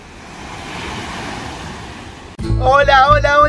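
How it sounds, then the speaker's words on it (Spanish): Ocean waves wash steadily onto a beach in Brazil, a broad continuous surf roar for a couple of seconds, then music-like tones and louder sound cut in abruptly. "los dejo acá unos segundos con el sonido del mar"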